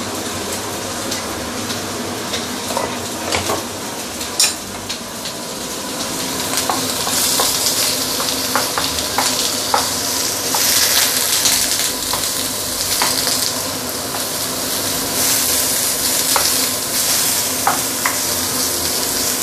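Boneless Iberico pork ribs fry and char in a hot claypot, a steady close sizzle with scattered pops and the scrape of occasional stirring and flipping, continuous throughout with no talking.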